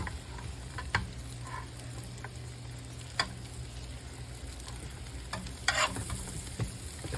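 Sourdough bread toasts in about 1.5 tablespoons of butter in a skillet, giving a steady, close sizzle with occasional faint clicks and scrapes.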